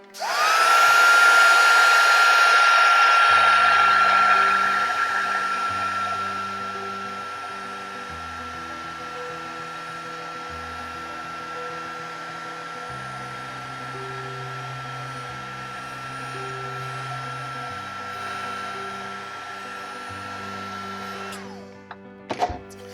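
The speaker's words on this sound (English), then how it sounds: "We're going to turn this heat embosser on and let it do its magic." A heat embossing tool blows hot air with a loud, steady whirring hiss that is strongest at first and then holds level before cutting off near the end. Quiet background music plays underneath.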